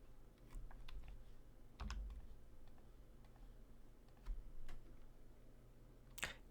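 Sparse, faint key presses on a computer keyboard, with scattered single clicks and one louder tap near the end over a low steady background hum.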